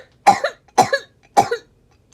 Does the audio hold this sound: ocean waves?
no